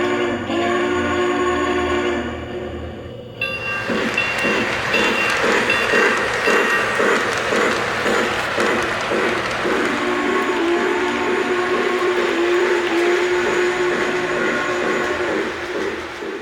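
A Lionel 675 Prairie Freight O gauge model train set opens with a sustained whistle tone, then runs with a loud, steady rhythmic clatter of wheels on track that carries on to the end.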